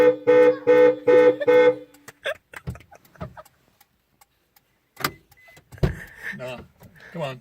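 Horn of a 2016 Subaru WRX sounds in four short loud blasts at a steady rhythm. Scattered talk and clicks follow afterward.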